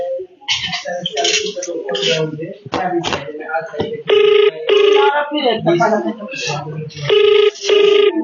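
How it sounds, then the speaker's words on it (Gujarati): A telephone call rings in two pairs of short electronic ring bursts, fairly loud, heard through constant excited talking from several people at a crowded local gathering. "મેં ફોન લગાડ્યો છે"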